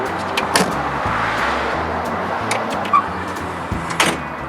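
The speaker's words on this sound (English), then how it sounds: "our window that comes up and down just like you're going to do in an excavator" On a Kubota SVL90 compact track loader, the cab window slides up and down with a motorized whir and soft rattles, punctuated by a few sharp clunks as it moves and seats.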